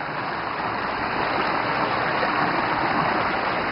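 Warm natural hot spring water rushes steadily at a cement-walled soaking pool, a loud, continuous broadband flow like a stream, close by with no talk.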